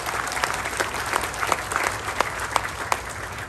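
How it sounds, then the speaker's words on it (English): Audience applause at a Navajo Code Talker Day event honoring an elderly Navajo Code Talker, a steady wash of many hands clapping with sharper individual claps popping out, moderately loud and continuous throughout. "Let's give him a good round of applause as well."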